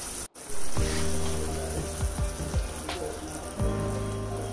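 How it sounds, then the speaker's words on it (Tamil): Rice goes into a pot of boiling water on a home stove. A splash and crackle are followed by a steady bubbling sizzle, with several soft low pops and clinks from the pot continuing throughout. "இப்போ வந்து நம்ம எடுத்து வச்சுருந்த அரிசியை சேர்த்துடலாம்."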